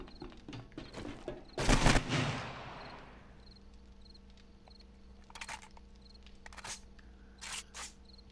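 A burst of AK rifle fire in the 7 Days to Die game, loud and close around the second mark, then fading into a quiet ambient bed with faint insect-like chirps and a few soft clicks.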